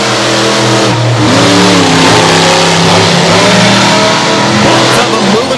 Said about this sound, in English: Our first pairing of round number 1, the Outlaw Monster Truck Drags, about to get underway.